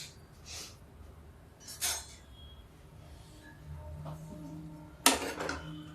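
A spoon scoops pea curry out of an iron kadhai, giving a few sparse metallic clinks and scrapes, close and fairly faint, separated by quiet pauses.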